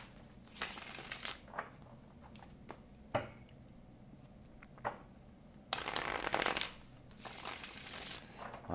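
Tarot cards shuffled by hand before an intuitive reading, several quick riffling bursts and soft slaps close by, separated by quiet pauses, the longest shuffle near the end, no talking.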